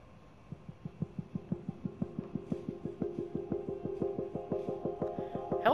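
A helicopter in the video game Prey gives a steady, rapid rhythmic thudding throb that grows slightly louder and denser over several seconds, with no talking.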